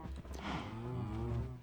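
Blocky cows moo in a Minecraft survival world as they crowd toward a newly opened doorway. One long, low drawn-out moo sounds close and clear, with faint game sounds around it and no talking.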